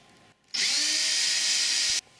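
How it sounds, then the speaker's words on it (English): A power drill bores holes through a wooden gusset, one loud steady whine running nearly a second and a half close up, starting abruptly and cutting off cleanly. "I won't make you watch me drill all of the holes."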